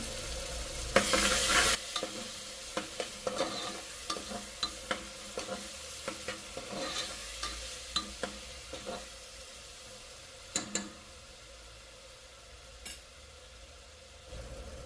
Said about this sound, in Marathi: आणि पुन्हा एकदा छान प्रकारे मिक्स करून घेणार आहोत